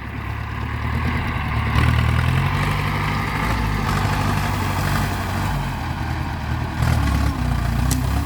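A Ford 6610 tractor pushing through brush to clear scrubland runs with a steady, low diesel drone that swells slightly as it works under load, close and continuous with no talking.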